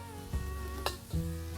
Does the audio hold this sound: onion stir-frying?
yes